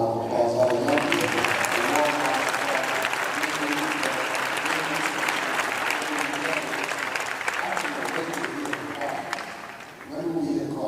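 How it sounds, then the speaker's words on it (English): An audience at a youth awards forum breaks into sustained applause for young people, a loud, dense wash of clapping that carries on for about ten seconds before tapering off, with voices mixed in. "So we're going to give you all a round of applause, all the young people."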